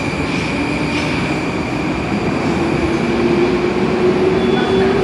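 A Rusich metro train departing in the Moscow metro rumbles loudly and steadily nearby, a rising whine building as it pulls away, with faint wheel squeal over the roar.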